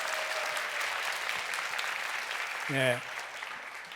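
Steady audience applause at a Christian elementary school graduation service, welcoming a speaker, a moderate continuous wash of clapping with a brief spoken word rising over it near the end.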